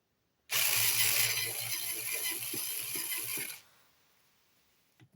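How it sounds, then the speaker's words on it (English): Power screwdriver whirring steadily for about three seconds while backing bolts out during installation of a Samsung 990 PRO 4TB NVMe M.2 drive with heatsink, a close, loud buzz that stops abruptly, followed by faint handling noise. "A lot of you might disagree of using a power tool on a computer"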